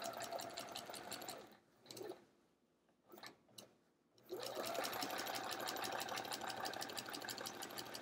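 A quilting sewing machine stitches an hourglass block with metallic thread, a fast mechanical whir that stops briefly with a few clicks, then resumes at full speed.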